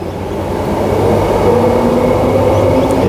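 A two-car metro train pulls away from a suburban station on Perth's Thornlie-Cockburn line, a steady low rumble and whine that builds gently and holds, fairly loud and continuous with no voices.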